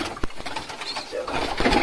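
A pigeon chick gives short, close coos and soft calls alongside brief handling noises, loud and near, in a quick burst lasting under two seconds.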